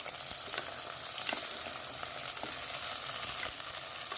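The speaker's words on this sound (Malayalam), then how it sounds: "ഇതെല്ലാം ഇട്ട് കൊടുത്തിട്ട് നമുക്കൊന്ന് നന്നായിട്ട് വഴറ്റിയെടുക്കണം." Vegetables sauté in hot oil for Kerala-style drumstick theeyal, giving a continuous soft sizzle with faint crackles and occasional stirring clicks, quiet and without voices.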